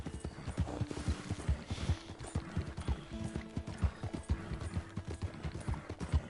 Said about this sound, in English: This horse is going to run ragged.